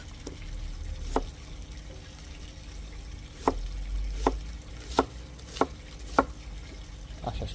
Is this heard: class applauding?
no